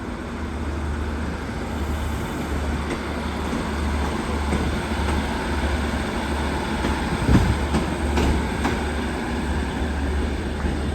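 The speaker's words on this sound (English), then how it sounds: "Departing now is a northern service." A Northern passenger train pulls out of Newcastle station with a steady, loud rumble of engine and wheels, broken by a few faint clanks and thumps.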